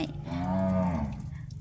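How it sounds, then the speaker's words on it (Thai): A cow gives one long, loud, close moo that rises and then tapers off, heard alone against a faint outdoor background. "วัวจะเสียงดังนิดนึงนะคะ"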